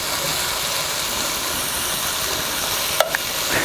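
Shrimp, mushrooms, tomatoes, fresh garlic and chopped green onions frying together in a pan, a dense continuous sizzle up close with a couple of sharp utensil clicks near the end, no speech.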